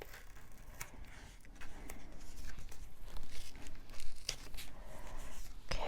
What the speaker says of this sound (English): this one is going to get taped right there